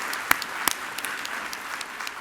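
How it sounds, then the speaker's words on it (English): Scattered applause at an award ceremony dinner for the service and kitchen staff, moderately faint with a few sharp, distinct claps standing out from a thinner patter. "can I get a round of applause for our service staff and for those who have prepared the meal?"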